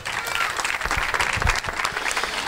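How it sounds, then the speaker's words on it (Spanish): An audience applauds at a football club's player presentation in Almenara with brisk, lively clapping from a crowd nearby, fairly loud and continuous. "Un aplauso para él"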